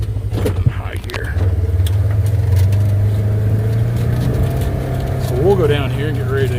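A vehicle engine running in high gear out in the hills: a steady, fairly loud low drone that holds throughout, with a voice talking over it near the end.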